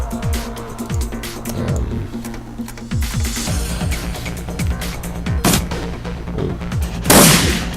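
Rapid bursts of gunfire in the video game Shadowrun Returns, a string of repeated shots and impacts with a louder blast near the end, all dense and close, with no speech.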